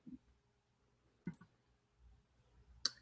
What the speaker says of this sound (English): I'm clicking on share,